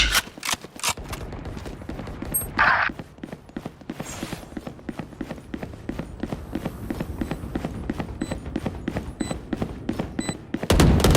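Rapid, steady rifle fire in a shooter video game: a long string of evenly spaced shots runs almost continuously, loud and close, with a few brief breaks and small extra effects between them.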